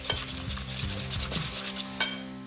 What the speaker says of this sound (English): Whisk up those eggs nicely.